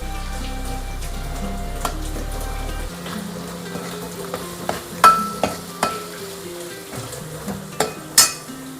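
Yogurt being stirred into tomato puree in a hot pan, spoon clinks and scrapes against the pan coming in sharp, irregular taps over a soft sizzle, close and moderately loud, with no talking.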